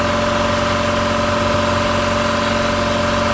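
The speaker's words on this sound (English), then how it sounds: "There we go. Up and running. It's not too loud of a compressor" A Quincy air compressor runs outside a shop with a steady, continuous mechanical drone and hum at constant loudness, with no voices.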